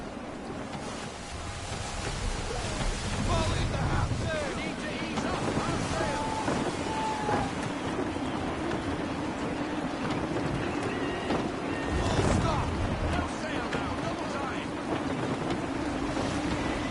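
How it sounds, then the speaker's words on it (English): Gusty wind at sea while sailing in the video game Assassin's Creed 3: a loud, continuous rush of wind and surging waves around a sailing ship, swelling in gusts, with a brief voice partway through. "Wind looks to be shifting. Stay alert, Connor. Gusty winds can be difficult to manage."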